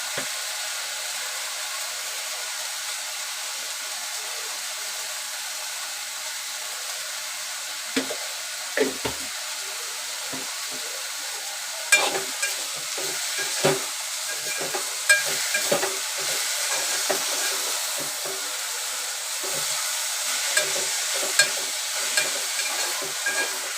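Vegetables tossed into a hot spiced-oil tempering for a Malvani-style Gokulashtami meal, stirred with a spoon; a steady soft sizzle runs throughout, with sharper scraping clinks and stirring knocks growing busier in the second half, close and alone without talk.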